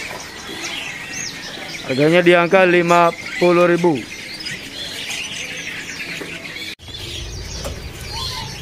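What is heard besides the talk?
birds calling at a market, including a spotted dove (tekukur)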